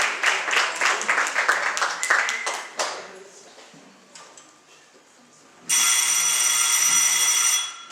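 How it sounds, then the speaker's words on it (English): Applause fades out, then after a short quiet stretch an old-fashioned telephone bell rings loudly and steadily for about two seconds, opening a vintage radio detective drama. "the ringing of that phone bell means mystery, adventure"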